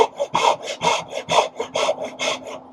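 A hand saw cuts a dovetail in wood with about nine steady back-and-forth strokes, each a close, raspy rub with a regular rhythm and no voices.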